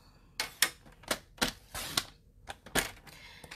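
A paper trimmer cuts cardstock for a matting layer, giving a series of sharp, separate cutting and clicking snaps, close and moderately loud, with short quiet gaps between them.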